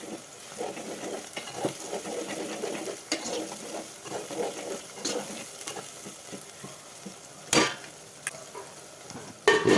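Ginger garlic paste being stirred in a pan as the base for fish curry: a continuous sizzle with repeated scraping strokes of a spoon, plus a couple of louder knocks on the pan near the end, no voices.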